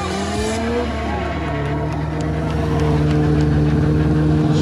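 A motorcycle engine revs loudly and close up during a wheelie stunt show at a bike night, its pitch climbing and sliding as the rider circles and adds gas, over a continuous roaring drone.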